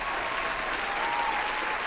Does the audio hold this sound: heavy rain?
no